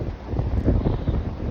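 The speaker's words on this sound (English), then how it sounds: "It's very windy today" Strong outdoor wind during hurricane season buffets the microphone in a loud, continuous rumbling roar with gusty surges and no talking.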